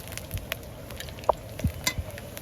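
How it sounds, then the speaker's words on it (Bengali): Ginger garlic paste fries with onions in a pot for haleem, heard as a low sizzle under several sharp clicks and scraping taps of a spoon stirring against the pan. "পেঁয়াজগুলো হালকা করে ভাজা হয়ে গেছে এখন আদা রসুন বাটা দিয়ে দিবি"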